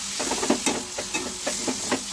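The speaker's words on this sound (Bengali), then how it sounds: "আলুটা দিয়ে ভালো করে নাড়াচাড়া করে নিলাম" Potatoes stirred into a frying rajma curry in a pan, heard as rhythmic spoon scrapes and shuffles over a constant hiss of sizzling, close and fairly loud.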